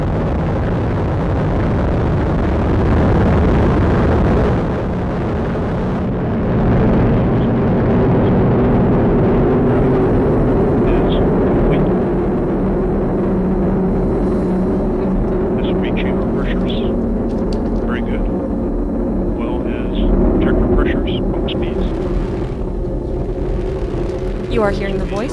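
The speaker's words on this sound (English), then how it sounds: "We have ignition and liftoff of the United Launch Alliance Atlas V rocket" A United Launch Alliance Atlas V rocket ignites and lifts off carrying a space-based infrared satellite for the US Air Force, a loud sustained roaring rumble that stays heavy throughout while a commentator talks over it.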